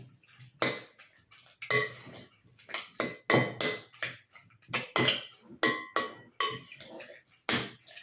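Spreadable cheese being mixed into tuna in a bowl, heard as a close series of sharp utensil clinks and scrapes against the bowl, coming in irregular bursts without talk.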